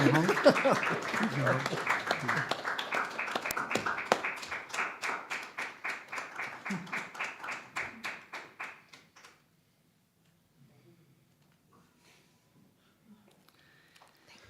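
Audience clapping at a Universal Peace Federation ceremony honouring an ambassador for peace, starting over talk and settling into steady, fairly loud rhythmic claps that stop abruptly around nine seconds, leaving near silence.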